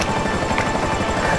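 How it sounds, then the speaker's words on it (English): Steady rotor chop and turbine whine from a helicopter in GTA V Online, loud and continuous, with no talk over it. "Christina, don't hit my helicopter blades, please."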